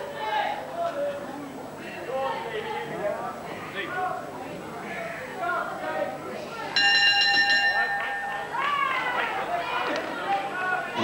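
A boxing ring bell ending a round, a bright ringing clang cutting through crowd noise and a commentator's talk, with the bell's tone sustaining for about a second.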